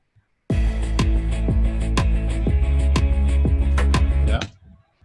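A punchy drum beat through a Saturn saturation plugin, with a deep, saturated low end and bright crashing hits, played steadily for several seconds before cutting off.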